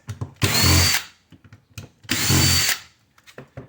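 A power drill backs screws out of a scrap fan cover in two sustained whirring bursts, each lasting about half a second, loud and close. Small clicks and handling noises sound between the bursts.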